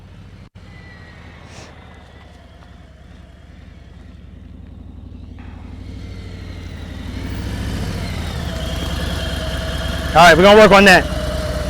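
Motorcycle engine idling steadily during a riding lesson, a low continuous rumble that swells gradually, with someone speaking over it and a brief louder burst near the end.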